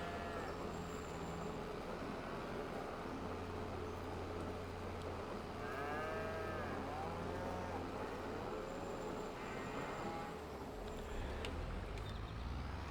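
Cattle in the farming game Farming Simulator 22 moo several times in the middle, drawn-out calls over a steady engine hum, moderately loud with no talking.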